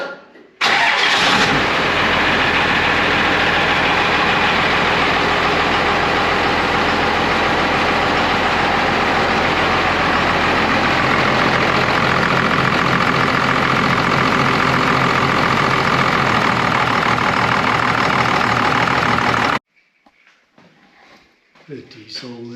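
A Cummins diesel engine in an International 1210 truck cranks and catches, then runs at a loud, steady idle close by for nearly twenty seconds before stopping; a voice briefly speaks near the start.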